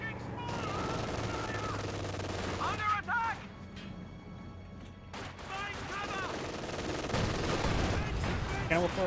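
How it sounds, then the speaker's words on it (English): A cannon fires amid a battle in the strategy game Company of Heroes 2, with loud sharp blasts and bursts of gunfire punctuating a rumbling war soundscape. "Cannon Warfare fires a shot."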